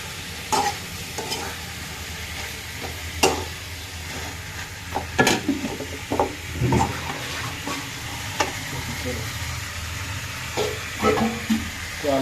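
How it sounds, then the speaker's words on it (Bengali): Potatoes being stirred in a hot pan with frying oil and spices, a loud sizzle broken by repeated scraping and clattering strokes of the spoon, close by, with no voices. "এখন হচ্ছে আলুটা ভালোভাবে মিক্স করে নেব।"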